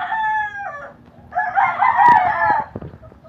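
Bred gamefowl roosters crow close by, one call fading out and a second, louder crow rising after a short gap, with rustling and scratching underneath.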